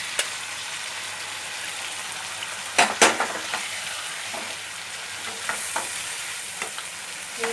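Boiled water lily stems tossed into frying shrimp and stirred in a pan, giving a steady close sizzle with a few sharp scraping clinks of a utensil against the pan.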